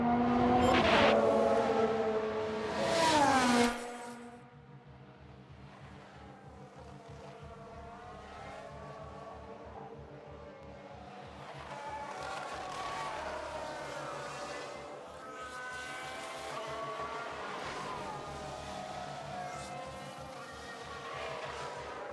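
A Formula 1 car in F1 Manager 2022, 1991/1992 Tyrrell season, spinning out: a loud engine screams and cuts off abruptly, then lower engine drones and wavering revs of cars passing continue, with no voices.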